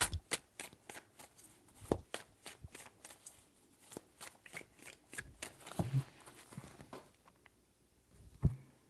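Close, crisp riffling of tarot cards being shuffled repeatedly, quick flicking bursts with brief pauses between, no talking.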